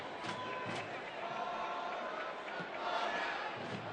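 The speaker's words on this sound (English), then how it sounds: "the crowd appreciates the effort" Stadium crowd at a Tampa Bay Rowdies versus Memphis 901 FC football match, a steady broad roar of applause and murmuring from many fans filling the whole moment at moderate distance.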